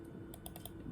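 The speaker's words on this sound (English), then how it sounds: "Let's double click and" Quick mouse clicks on a computer while examining masonry drill bit material under an electron microscope, several short sharp ticks close together against a steady low hum.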